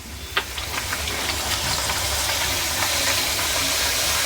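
Gram-flour-stuffed puris deep-fry in hot oil with a loud, steady hissing sizzle and scattered small pops and crackles throughout, with no one talking.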